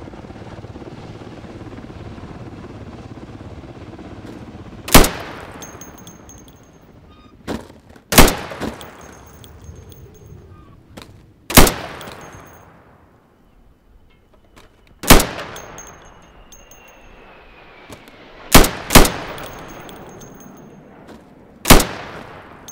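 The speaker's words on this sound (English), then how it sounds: "So you can shoot accurately over 20 feet with your sidearm." Sidearm pistol fire in the game Insurgency, aimed at pop-up targets: about eight sharp, loud cracks at irregular intervals, each followed by a short echoing decay over a low background hum.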